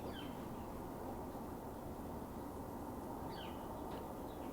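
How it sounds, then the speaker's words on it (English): Birds singing outdoors on a quiet day, faint chirps and short song phrases rising now and then over a steady low background hum, distant and sparse. "I hear birds"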